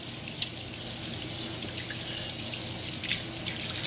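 Ribs rinsed under a running tap, a steady broadband rush of water splashing into a sink with faint drips, continuous and close, no talking.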